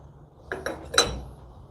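Glazed ceramic pottery pieces clink as they are lifted out of a glaze kiln, with three quick, fairly close knocks, the last one the loudest and ringing briefly, against an otherwise quiet background.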